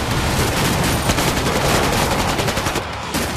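Rapid automatic gunfire in the Killing Floor 2 video game, a dense, loud stream of crackling shots lasting several seconds before a brief drop near the end.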